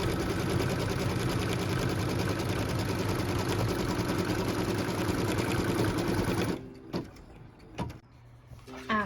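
A sewing machine runs steadily for several seconds, stitching a tack-down line on a pieced quilt block, then stops, leaving a few faint clicks and handling sounds.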